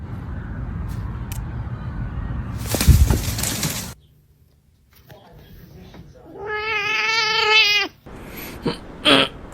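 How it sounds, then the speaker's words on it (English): A house cat lets out one long, wavering meow close by, after rustling and clattering noises and a brief silence, with a few sharp knocks at the end. "Oh. Meow."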